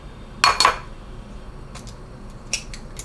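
Eggs being cracked into a bowl, with two sharp close taps and cracks in quick succession, then a couple of fainter clicks and knocks.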